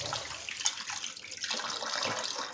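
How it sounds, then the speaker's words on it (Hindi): Moong and masoor lentils being rinsed in a bowl of water, with steady sloshing and running-water splashes close by, continuous for the whole moment and no talking. "इहनूं 3-4 वारी धोणा है जदों तक साफ पानी नहीं आउंदा"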